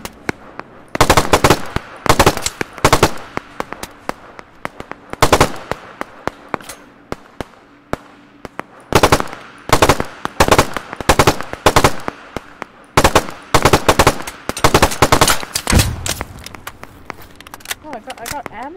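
A picked-up gun fires in Operation Harsh Doorstop, with loud, close bursts of rapid gunfire in clustered volleys separated by brief pauses.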